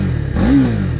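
A 2018 BMW G310R 310cc motorcycle takes one short blip of the throttle. The engine note climbs and then falls back to a low idle, heard close and fairly loud with no talking.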